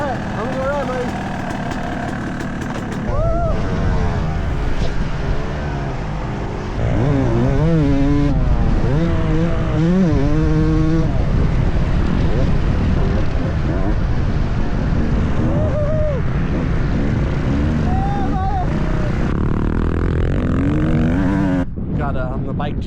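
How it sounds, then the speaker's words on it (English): A motocross bike engine drones and revs with rising and falling pitch, loud and close, amid wind noise while people talk over it. "You want to rev it? Rev it."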